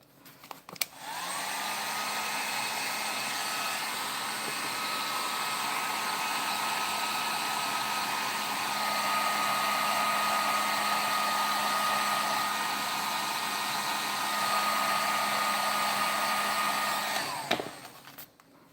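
Heating tool warming the wrist sockets of an action figure under construction, a steady blowing whir running about seventeen seconds, switched on and off with clicks at each end, close and alone.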